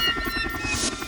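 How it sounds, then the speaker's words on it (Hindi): A helicopter runs nearby in a Taarak Mehta Ka Ooltah Chashmah scene, its rotor thumping in a fast, even pulse under a steady engine whine. "ये हेलीकॉप्टर है"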